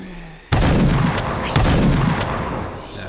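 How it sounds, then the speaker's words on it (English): Shotgun blasts at zombies in the game Glitch Simulator 2018: three loud, sharp booms spaced about a second apart, each leaving a rumbling tail that blends into the next. "Shotgun's not working like it should."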